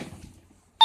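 A phone gives a short, sharp electronic beep at the very end, loud and sudden after faint room sounds, in a living room with kittens.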